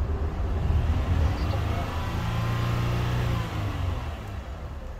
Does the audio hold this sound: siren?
no